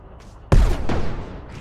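A tank destroyer's gun in the Brick Rigs video game fires one loud, booming shot that rolls on and fades over about a second, with a softer echoing thump trailing behind.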